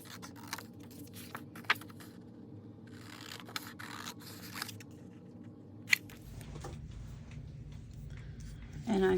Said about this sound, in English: I'm going to cut these in half and just use one, and then I'm going to cut this one out